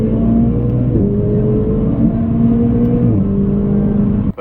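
A twin-turbo Ferrari 488 race car engine drones steadily and loudly from close by, with brief dips in pitch suggesting gear changes, and no talking.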